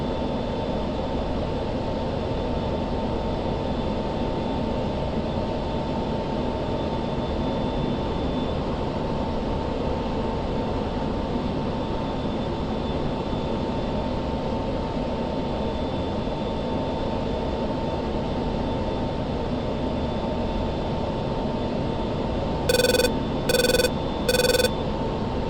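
A fighter jet flies in the DCS flight simulator, its engine a steady, even roar holding throughout, with three short electronic warning tones near the end.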